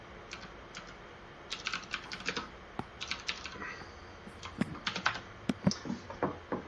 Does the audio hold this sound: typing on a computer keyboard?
yes